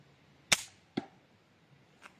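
A sharp twang and thwack of an arrow released from a bow, followed by a softer second snap and a faint distant tap, outdoors at a 33-metre range.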